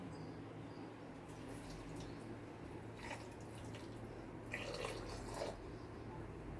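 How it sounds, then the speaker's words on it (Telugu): Water is poured into a cooking pot in a home kitchen, making faint, brief splashy bursts over a low, steady background hum. "ఇప్పుడు ఇంకొన్ని వాటర్ పోసి ఇంకొన్ని నీళ్ళు పోద్దాం"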